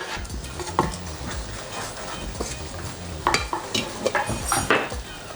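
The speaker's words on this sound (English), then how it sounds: "let me stir this rice" Rice being stirred in a pot while cooking Jamaican rice and peas, with scraping and clinking of a spoon against metal and a soft sizzle, close and moderately loud, in irregular bursts.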